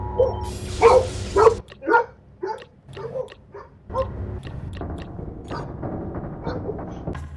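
Dog barking inside Crawlspace, a FNaF fan game, with several short sharp yips and barks bunched in the first two seconds, then fainter scattered barks and whimpers over a low game drone.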